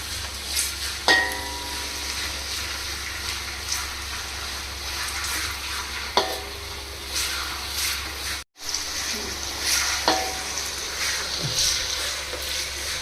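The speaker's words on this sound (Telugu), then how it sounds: "ఇప్పుడు ఈ అల్లం వెల్లుల్లిపాయ పేస్ట్ పచ్చివాసన పోయే వరకు ఫ్రై చేసుకోవాలి." Ginger garlic paste frying in a kadai for chicken biryani gives a steady close sizzle throughout, with a few sharp scrapes and clinks of a spoon stirring.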